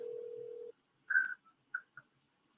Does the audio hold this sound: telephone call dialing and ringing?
yes